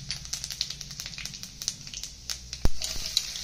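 Cumin seeds and a pinch of asafoetida crackle and sizzle in hot oil, a steady dense frying hiss peppered with small pops, one sharper snap near the end.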